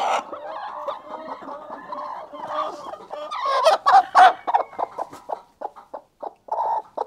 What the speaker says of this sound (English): You can hear that sound. This hen has gone broody.